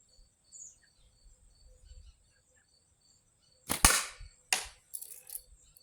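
A frameless long-draw slingshot fires in a few sharp, snapping releases close by, one strong shot followed by two quicker cracks, with crickets trilling faintly in the quiet outdoor background.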